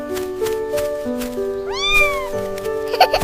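A cartoon cat gives a clear, rising and falling meow in a toddler's animated garden adventure, set over a bright musical background, with a short chime near the end.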